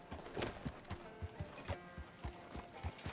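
Horse hooves clip-clopping at a walk in the Red Dead Redemption 2 video game, a steady run of distinct, fairly faint hoof strikes on a town street.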